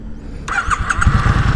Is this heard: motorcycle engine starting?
yes